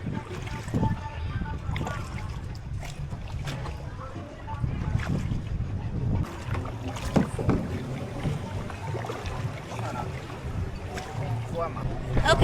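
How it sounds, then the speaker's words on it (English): Wind buffets the microphone out on open water during a kayak outing in Jamaica, a steady rumbling gust noise with faint paddle and water sounds, while people talk now and then. "And it's so windy."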